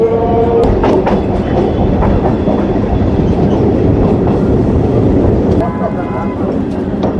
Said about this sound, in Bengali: আমাদের কামরানা স্টেশন ছেড়ে দিল পরবর্তী গন্তব্যস্থল আমাদের বর্ধমান স্টেশন